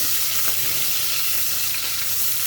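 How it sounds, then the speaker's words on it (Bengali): Chopped onions sizzle steadily in hot oil in a pan as they brown for a shrimp and vegetable dish, a close, continuous frying hiss with no talking. "সুন্দর করে ভাজা ভাজা করে আমি পেঁয়াজটাকে বাদামি করে নেব"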